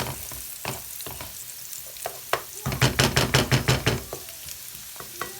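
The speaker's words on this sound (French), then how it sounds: "mettez un petit coup de cuillère en bois pour pas que ça colle" Wooden spoon stirring peppers and shallots in a frying pan, giving a run of close, rhythmic scraping strokes over a steady sizzle, with a louder burst of quick repeated stirs in the middle.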